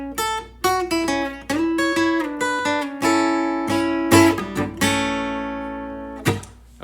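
A solo acoustic guitar plays a lead line of plucked single notes and brief chords, ringing out clearly with sustained tones between picks.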